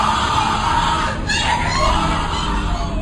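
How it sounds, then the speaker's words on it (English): A secret-society initiation ceremony fills the space with a dense, continuous crowd roar of screaming, yelling and shouting voices, loud and chaotic throughout with no pauses. "What you're hearing is the first recording ever made of the Skull and Bones initiation ceremony"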